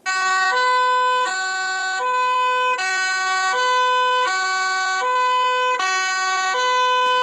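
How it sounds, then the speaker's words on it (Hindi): A two-tone siren alternating evenly between a high and a low pitch, loud and close, continuing without pause; no voices. "तो इसको सिरेने बोलते हैं, इसको बोलते हैं सिरेने"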